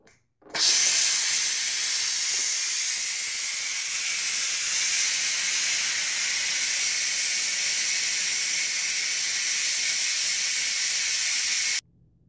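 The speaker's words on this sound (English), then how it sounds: "I'm going to go ahead and release the pressure." Steam hisses in a loud, steady rush from a Ninja Foodi pressure cooker releasing pressure after cooking corned beef brisket, cabbage and potatoes, starting abruptly and holding for about eleven seconds before cutting off, with no talk.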